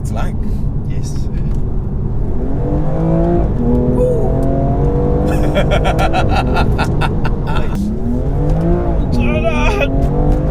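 A loud BMW M2 engine revs and climbs through the gears on the road, pitch rising and dropping repeatedly, with occasional clicks and rattles in the cabin.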